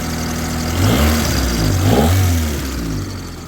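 Cold-running D16A6 engine in a Honda all-wheel-drive wagon, idling nearby with a few short rev rises and falls, the low engine hum steady and fairly loud.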